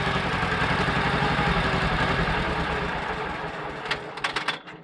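Bolens 1250 garden tractor repowered with a Wisconsin TJD engine, running close by with a steady rapid mechanical chatter and loud throbbing exhaust, then easing off near the end into a few clicks and knocks.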